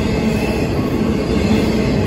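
A US freight train rolls steadily past a road crossing, a loud, close, continuous rumble of wheels on rail with a faint metallic squeal, heard alone.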